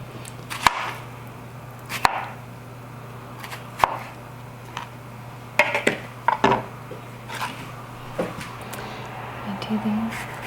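Knife strikes on a cutting board while fruit is sliced thin for rose sangria, a scattering of sharp close taps spread across the stretch, with a steady low hum underneath and a few light clinks.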